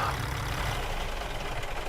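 A heavy truck engine idles steadily in American Truck Simulator, a low continuous rumble held at an even level with no talk over it.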